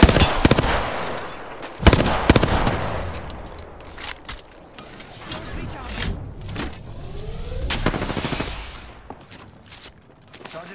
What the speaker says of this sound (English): There's two squads shooting at us.